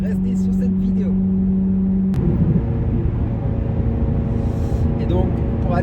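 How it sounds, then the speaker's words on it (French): A car rolls along a Belgian road toward Ghent, its steady engine rumble and tyre noise continuous and close, with faint speech over it. "c'est pas la plus belle route où je peux vous faire écouter le son du véhicule"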